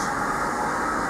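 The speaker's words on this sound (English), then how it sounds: "this heat pump is working now on the outside. That's the noise you hear." Steady broadband whooshing hum of an outdoor heat pump running, constant and fairly loud with no variation or voices.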